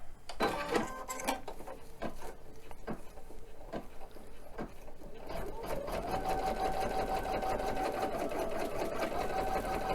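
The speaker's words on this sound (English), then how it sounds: "So now we're just going to run the basting stitch." An embroidery machine runs a basting stitch on a bodysuit, its needle settling into a steady, fast mechanical whir with a faint tone after a few scattered clicks and taps, fairly close and continuous.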